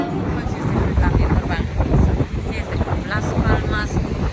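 Gusty wind on a mountain viewpoint in Gran Canaria buffets the microphone with loud low rumbling, continuous throughout, while someone talks over it.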